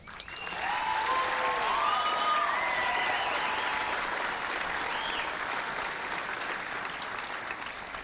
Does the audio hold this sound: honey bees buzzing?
no